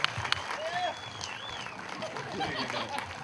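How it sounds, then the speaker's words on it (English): Audience at a beach music event applauding a young child, moderate clapping spread through the short stretch beneath a voice and some cheering tones. "Would y'all give our little friend Eli one heck of a round of applause?"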